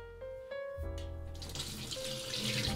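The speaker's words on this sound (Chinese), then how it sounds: "把浸泡好的猪肝在清水中反复冲洗，多冲洗几遍。" Tap water runs over soaked pork liver in a sink, with a steady loud splashing rush after a few short clinks and thuds at the start.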